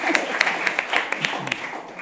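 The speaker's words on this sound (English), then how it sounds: "Another round of applause, please." A conference audience applauds at the closing plenary of European Microfinance Week, with dense clapping in a hall for about two seconds and no voices over it.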